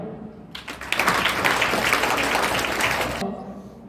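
An audience at a National Science Day event breaks into a burst of clapping lasting about three seconds, cutting off sharply, with a voice speaking over the hall.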